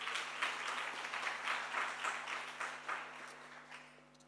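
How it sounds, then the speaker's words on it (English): A room full of people at a foundation anniversary event claps in a warm round of applause that swells and then gradually tapers off, with a low steady hum underneath. "Let's give him a warm round of applause"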